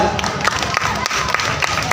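An audience bursts into applause, dense overlapping claps from a crowd mixed with a few cheers and voices, fairly loud and continuous.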